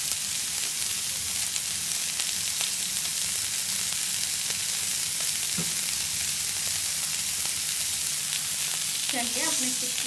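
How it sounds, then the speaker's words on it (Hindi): Chicken tikka kebabs fry in ghee in a pan, giving a loud, steady sizzle that lasts throughout with occasional crackles and small stirring or clinking noises. "इसके ऊपर थोड़ा सा घी डालेंगे हम, आप ऑयल भी डाल सकते हैं"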